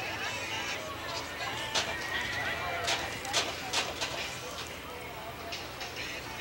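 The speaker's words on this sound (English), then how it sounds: "And we've got a feisty horse." A feisty horse neighs at the 2005 Comstock Stampede rodeo amid a busy arena din, its whinnies rising in short bursts over crowd noise and voices.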